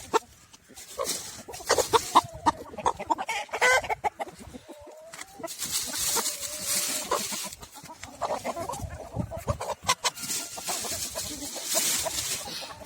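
Chickens and geese being fed on a small backyard coop: steady clucking, squawks and honks overlap in a busy flock close by, continuing throughout without talk.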